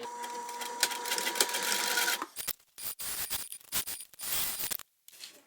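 Sewing machine top stitching bag lining and side panels, a steady mechanical whir for about two seconds, then short bursts of stitching broken by pauses, close and fairly quiet.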